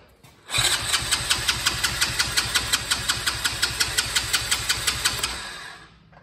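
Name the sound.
ATV engine cranking over but not starting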